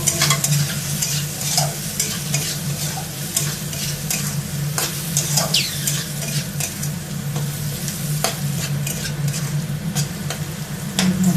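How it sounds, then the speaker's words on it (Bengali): Chillies, cinnamon and other spices fry in a pan for a vegetable dal, producing a loud, steady sizzle broken by frequent scraping stirs of a spoon, with no talking. "ভাজা হচ্ছে"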